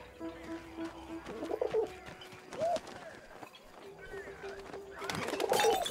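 A pigeon coos in the video game 11-11: Memories Retold, soft throaty calls repeating several times at close range over light ambient noise and movement.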